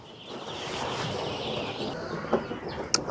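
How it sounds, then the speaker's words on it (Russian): Young chickens clucking and peeping in a coop in a farmyard, a soft steady chatter of many birds with a few louder calls near the end. "Цыплячье царство."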